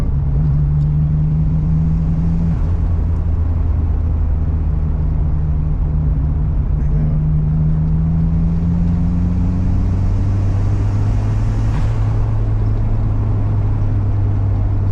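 Volkswagen Golf 2 with a 1.3 turbo engine accelerating at part load, a close, loud, steady engine drone whose pitch slowly rises and falls, with no talk over it.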